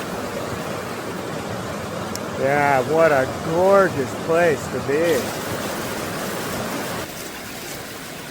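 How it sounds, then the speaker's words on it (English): A creek runs in a steady, even rush that fills the whole clip at moderate volume. Someone speaks briefly over the flowing water midway through. "Okay, we're down here on a creek."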